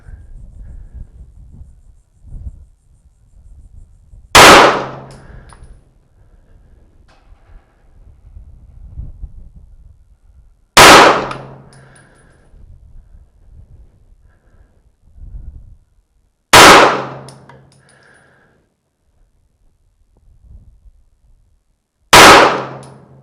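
Four loud pistol shots at an outdoor range, fired from a rest with Atlanta Arms 115 jacketed hollow point ammunition, spaced about six seconds apart. Each crack has a brief ringing tail over quiet background.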